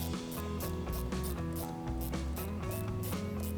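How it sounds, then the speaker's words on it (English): A ratchet fitted with an 8mm socket loosens an intake hose clamp on a Jeep JL Wrangler. Close, quick, rhythmic clicking repeats steadily throughout with no talking. "Grab yourself an 8mm socket or a flat head screwdriver and we're going to go ahead and loosen up this clamp right here."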